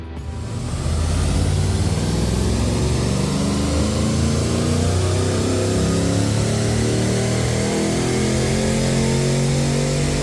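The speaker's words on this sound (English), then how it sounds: "Now what we're going to do is do the baseline dyno run, see what the W310 makes" A Walkinshaw W310 Commodore runs a baseline pull on a chassis dyno, its engine a loud, steady, sustained drone that holds for the whole stretch with no speech.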